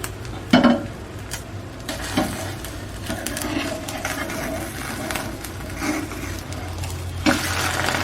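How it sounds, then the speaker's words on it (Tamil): An egg omelette (karandi style) cooks in a small pan with a continuous close sizzle, punctuated by a few louder scrapes and knocks of the spoon as the liquid edges are pushed and the omelette is flipped. "வெளியே கொண்டு வந்துட்டு வேக வச்சிடலாம்."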